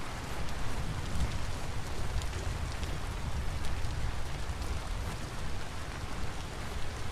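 Steady, dense rainfall in the survival game Vintage Story, a constant hiss of drops pattering on surfaces that stays even and fairly close throughout, with no voices.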